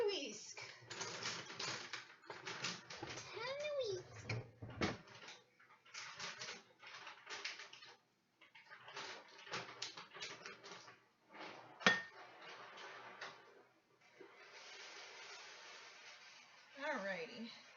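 A tiny whisk stirs a gyro spice mix with quick, close, light metallic ticking in bursts separated by short pauses, with faint talking in between.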